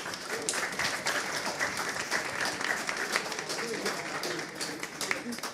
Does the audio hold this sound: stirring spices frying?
no